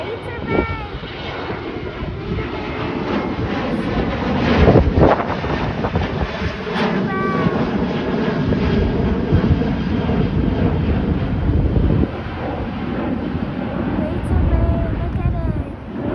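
Greater Bay Airlines jet at Hong Kong International Airport, a steady broadband engine roar sustained throughout with heavy wind buffeting on the microphone and people talking over it.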